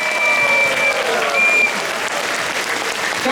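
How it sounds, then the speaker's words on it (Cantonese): A theatre audience at a sold-out Cantonese opera curtain call applauds the young lion dancers, sustained loud clapping from a full house with a faint high whistle-like tone over it. "俾掌聲我哋嘅舞獅。"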